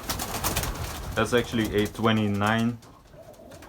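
Racing pigeons cooing in a loft, a few close throaty coos rising and falling in short bursts, heard alongside someone talking nearby.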